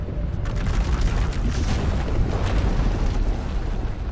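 A runaway power eruption in Star Wars: The Old Republic rips through an asylum as one continuous loud roaring blast of rumbling, crackling noise, with a brief line of speech at the start.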